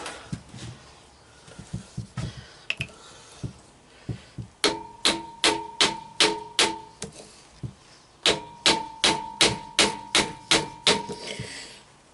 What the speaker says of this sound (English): use this hammer,